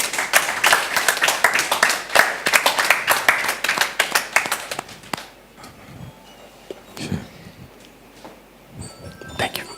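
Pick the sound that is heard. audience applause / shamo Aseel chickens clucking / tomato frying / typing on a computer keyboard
audience applause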